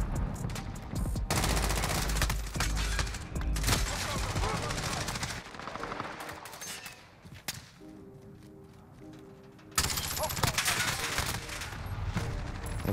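Dense, loud automatic P90 fire in an online shooter game, with sustained bursts and rapid cracks that break off briefly midway and return, with faint voices under the shooting.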